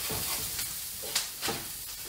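Onion dropped into butter and oil in a pan for chicken à la crème, giving a steady close sizzle with a few sharper crackles and stirring clicks, no talking over it.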